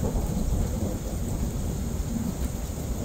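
Thunder rolls through a steady downpour of rain, a continuous low rumble over a dense hiss of falling water that stays loud and even throughout, with no voices.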